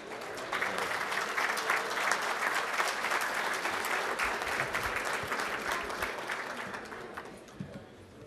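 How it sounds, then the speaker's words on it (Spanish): An audience at a business breakfast talk in Uruguay gives warm, sustained applause, a dense wash of clapping that holds steady and then fades toward the end. "Le damos un fuerte aplauso al ingeniero Javier Carrau."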